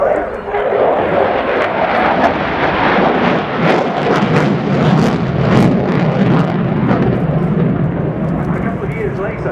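A Ukrainian Air Force Su-27P1M Flanker jet roars loudly overhead during an air show flying display, a sustained, rumbling engine roar that swells and persists, with crowd or commentary voices beneath.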